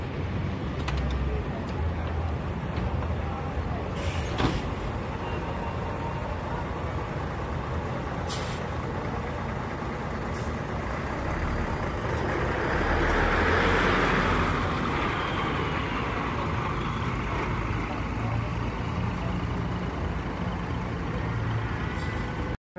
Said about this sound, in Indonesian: Telah masuk bus Harapan Jaya, ini menggunakan Hino RN285 dengan jurusan Nyuris 285.